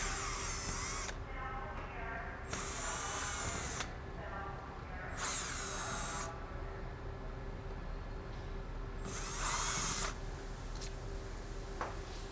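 Power drill backing out four screws from a Jarvis 404 electric reciprocating breaking saw, in several whirring bursts of one to two seconds each separated by pauses, close and steady over low background noise.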